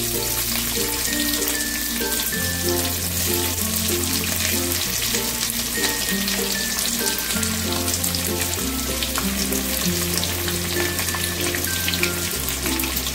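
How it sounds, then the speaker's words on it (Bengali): Thinly sliced onions, two large ones, frying in a pan for a Bengali gondhoraj lemon chicken, giving a steady close sizzle that runs throughout beneath a repeating musical backing, with no talking. "এবার পেঁয়াজটাকে আমি একটু ভালো করে ভেজে নেব।"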